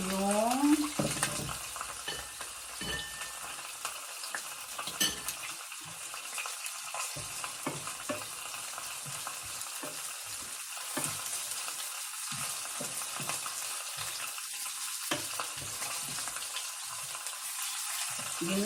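A spoon repeatedly stirs escabeche fish sauce in a sizzling pan, with scraping strokes in an uneven rhythm over a constant close frying hiss.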